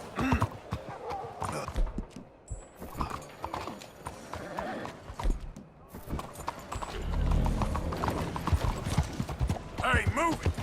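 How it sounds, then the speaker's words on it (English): Horse hooves clip-clop steadily in Red Dead Redemption 2, with a horse whinnying near the end, while characters talk over much of the scene. "You ought to take care of that horse there."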